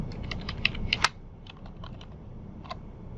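Typing code on a computer keyboard, a quick cluster of close, crisp key clicks followed by slower scattered taps.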